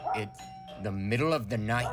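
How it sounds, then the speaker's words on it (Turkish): A doorbell chime rings amid voices, with people talking over and around the tone. "Ama zili kim çaldı?"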